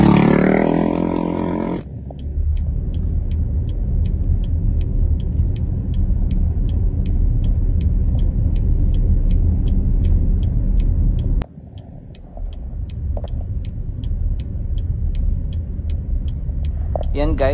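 City bus rolling into the bus depot yard, a loud steady engine rumble with a rhythmic ticking, a brief drop in level partway through, then the engine resumes, with no talk over it.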